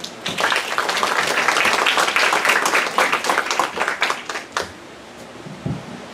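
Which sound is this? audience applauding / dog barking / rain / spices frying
audience applauding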